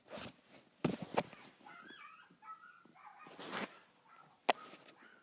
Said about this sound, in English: I think there's a dog outside.